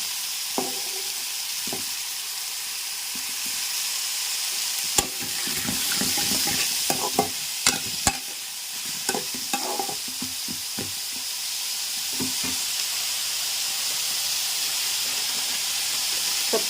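Ridge gourd pieces sauté in a pan, a steady sizzle and hiss running throughout with scattered clinks and knocks of stirring in the middle stretch, close by and with no voices.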